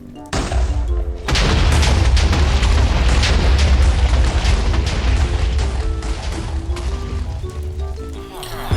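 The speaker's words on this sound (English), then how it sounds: "TNT mining goes a lot better and I get loads of ancient debris" TNT blasts while mining in the Nether in Minecraft, a loud sustained rumble of booming explosions after a brief quiet start, with music tones layered over it.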